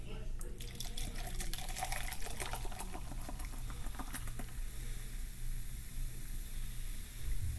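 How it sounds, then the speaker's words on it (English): Mountain Dew Freedom Fusion soda is poured into a cup, giving a close, fizzy stream of liquid that splashes and patters for several seconds before tapering into a soft crackle of carbonation. "Gonna pour the rest of this Mountain Dew in there."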